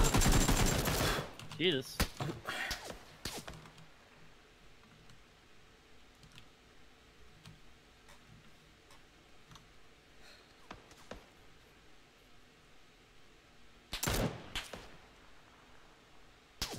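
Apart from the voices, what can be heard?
gunfire in the video game PUBG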